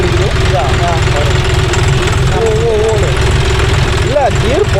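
Mechanical idling and gear noise from a John Deere 5045D 4WD tractor gearbox, a steady low rumble with a faint whine. A person talks over the machine throughout.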